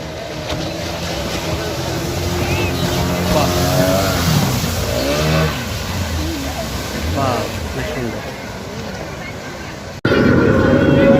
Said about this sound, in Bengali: স্পিড বোটটি এক রাউন্ড ঘুরে আসলো ডিগ বাজি দিচ্ছে